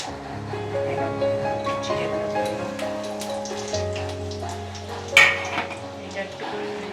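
Whole cumin, cloves, cardamom, cinnamon pieces and dried chillies sizzle in hot oil for chicken curry, a steady soft crackle with a brief louder spatter, heard under background hum and a faint voice.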